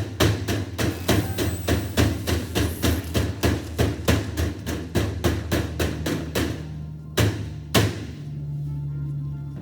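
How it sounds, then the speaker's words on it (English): A rubber mallet flattens a lead sheet against a wall stud with a quick, steady series of close, solid thuds. The strikes slow to a few separate blows at the end, with no talking. "Flatten it out with your rubber mallet."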